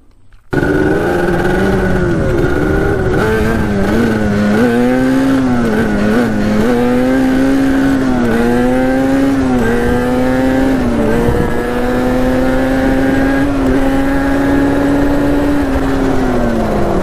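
A 2003 Yamaha Banshee ATV with chain drive revving hard during wheelies, its two-stroke engine screaming loud and close in rising and falling pitch sweeps, held continuously without a break.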